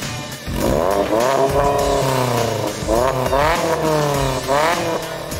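Modified low MPV with a front side-exit exhaust revving hard several times, loud, raspy and close, with rising and falling pitch sweeps and no talk.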